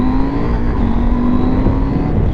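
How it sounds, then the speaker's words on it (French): A 2019 KTM 790 Adventure motorcycle accelerating with traction control switched off, its engine droning loud and close with a steady, slightly rising tone under heavy wind rush; nobody talks. "petite accélération."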